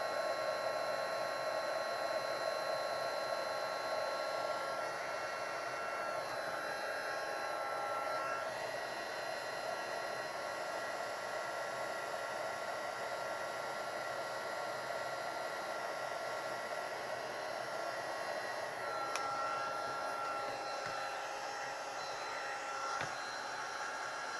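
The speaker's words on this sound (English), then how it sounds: "When you can't get your embossing gun turned off." An embossing heat gun left running, a steady loud whirring blow with a hissing high edge that holds without a break from start to finish, with no voices.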